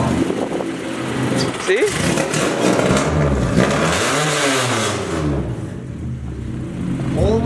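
A Honda CRX engine revs up and falls back in rising and falling sweeps, loud and nearby, with excited voices talking and exclaiming over it.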